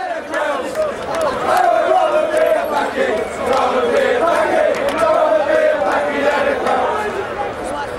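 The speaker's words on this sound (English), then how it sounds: "with racist chanting from a section of the crowd." A large football crowd chanting together in unison, loud and sustained, with rhythmic swells of massed voices and scattered shouts.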